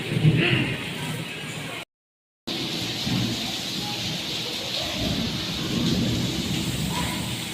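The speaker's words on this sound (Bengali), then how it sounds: "ঝিমঝিম হালকা বৃষ্টি পড়ছে" Steady rain falls outdoors during a dark afternoon thunderstorm with lightning in Bardhaman, with a broad hiss and low rumble throughout, broken by one brief silent gap.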